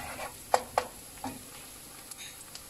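Garlic dropped into a hot pan for paksiw na pata, a faint sizzle under a few sharp clinks and scrapes of a utensil against the pan, spaced out across the moment.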